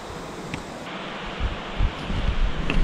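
Waterfall on the Appalachian Trail, a constant broadband roar of rushing water, close and steady, with low gusty rumbles of wind buffeting the microphone.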